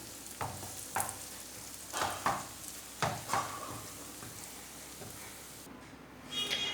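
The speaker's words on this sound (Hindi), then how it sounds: "इस तरीके से सारे को अच्छे तरीके से मिक्स कर लेंगे मसाले को" Masala is stirred and mixed in a pan with a quiet, steady sizzle, broken by a few distinct scraping strokes about a second apart.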